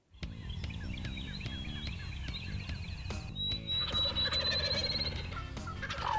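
Wild turkey toms gobble repeatedly across an open field in spring, rattling calls over a dense, steady outdoor background with other birds chirping, no talk.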